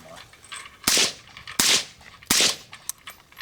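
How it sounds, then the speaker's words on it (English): Suppressed gunshots fired through a can during a suppressor comparison, three loud, sharp reports spaced roughly evenly, each with a short fading tail, close to the listener with no talking. "You're going to fire 2 rounds"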